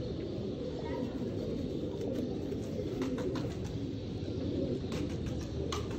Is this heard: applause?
no